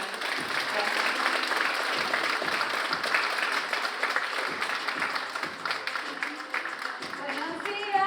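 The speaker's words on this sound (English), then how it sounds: "So please take a round of applause to Dr. Xochitl Gonzalez" Audience applause greeting Dr. Xochitl Gonzalez as she comes on at a Yo Quiero Dinero event: a dense, steady roar of clapping held for several seconds, with a few cheers and voices mixed in near the end.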